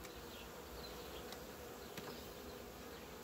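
Honey bees buzz in a continuous, even drone as a six-month-old beehive is opened, a soft steady hum with no voices over it.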